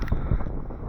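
Wind buffets the microphone on a windy night at a coastal campsite at Ballantrae, a low rumbling gust with two heavy thumps, close and loud, with no voices.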